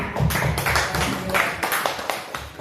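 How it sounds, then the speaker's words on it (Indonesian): A small group in a school setting claps for Bu Nur Hasanah, producing soft, uneven bursts of clapping at moderate distance with a few louder slaps, and voices murmur faintly underneath. "Tepuk tangan buat Bu Nur Hasanah"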